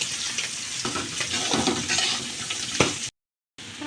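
Potato pieces with green chilies sizzle and crackle in hot oil in a pan, a steady close frying hiss with stirring scrapes, cut by a short silent gap near the end.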